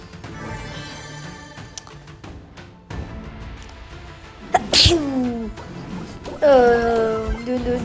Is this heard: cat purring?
no